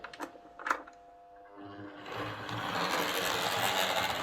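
A Hornby Class 142 Pacer model railcar runs with a rising, gritty motor whine and a rough buzzing texture that suggests gear mesh trouble, starting after a few faint clicks and growing steadily louder and noisier.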